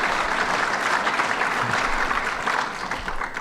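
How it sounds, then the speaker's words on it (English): An audience at Buffalo State College applauds the County Executive during a governor's event, a continuous wash of clapping from a large hall crowd, steady and moderately loud with no speech on top. "Let's give our County Executive another big round of applause."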